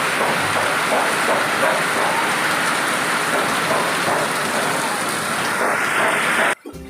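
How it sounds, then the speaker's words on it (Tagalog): Heavy rain pours steadily in a dense, continuous hiss, loud and close, before cutting off abruptly near the end. "Grabe po ang ulan ngayon. Napakalakas."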